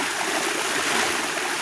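Running water pours steadily from a small waterfall while it is being cleaned, giving a continuous broadband rush that stays even and close throughout, with no voices.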